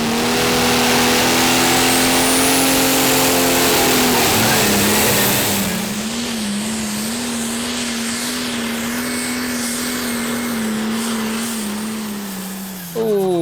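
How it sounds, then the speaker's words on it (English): Valtra pulling tractor with a freshly changed turbo at the Danish tractor pulling championship in Herning, its engine howling loudly and continuously during a pull, pitch wavering as it labours, then cutting off abruptly near the end. "Here's another Brit, Mike Turbo Simmons, and his Valtra called Ice Bear."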